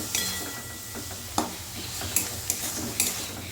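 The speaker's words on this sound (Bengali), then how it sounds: "এভাবে আস্তে আস্তে নাড়তে হবে" Mung dal filling with date jaggery stirred in a pan, a soft continuous scraping and sizzle broken by several light spoon clinks against the metal, close up.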